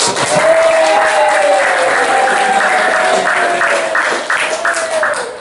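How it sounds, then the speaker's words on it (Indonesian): A classroom breaks into applause, a dense, steady burst of many hands clapping that carries on throughout and eases slightly near the end. "Oh, tepuk tangan dulu."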